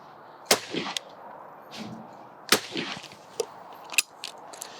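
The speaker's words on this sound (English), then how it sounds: "that was my round of clays with the Yieldits Pro 20 bore" A 20 bore shotgun fired at clay targets outdoors, a few sharp distant cracks spaced a couple of seconds apart, fairly faint over background noise.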